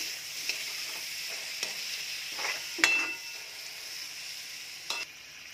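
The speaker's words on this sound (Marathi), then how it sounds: "ते पण मसाल्याचं परतून घ्यायचं आहे" Chopped tomato and onion with spices being sautéed in a pan, a steady soft sizzle with a few occasional scrapes and knocks of a spoon, quiet and close.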